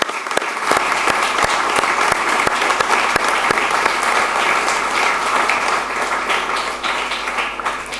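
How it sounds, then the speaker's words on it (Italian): Steady, dense applause fills an academic ceremony hall at a university's inauguration of the academic year, holding at an even level throughout with no voices on top. "vi chiedo di unirvi con me in un applauso"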